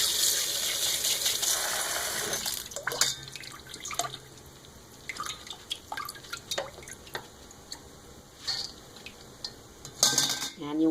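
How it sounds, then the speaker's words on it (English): Black rice is rinsed by hand in water, with scattered drips, splashes and light clinks of grains and a bowl. The soft, irregular sounds are close and quiet, with pauses between bursts. "you want to repeat the process until all the rice has been rinsed"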